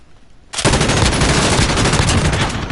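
Sustained rapid automatic gunfire from a Call of Duty: Modern Warfare match on PS4, loud and close, bursting in abruptly after a quiet moment and rattling on continuously to the end.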